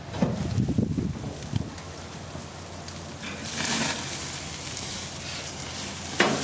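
A two-kilogram tomahawk ribeye steak on a grill gives a steady, close crackling sizzle throughout, with faint pops and rustling texture, rising slightly in the middle.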